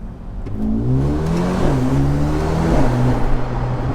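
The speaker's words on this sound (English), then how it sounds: "I could hear the turbo spooling" A Mercedes-AMG A35 engine revving and accelerating through gear changes in a tunnel, echoing, with a rising whir as the turbo spools, loud and sustained.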